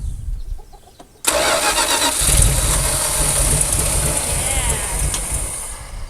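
A starter grinds on an abandoned classic Dodge Power Wagon after a short stretch of quiet talk, then the engine begins firing, a loud, rough, sustained churn that holds for several seconds.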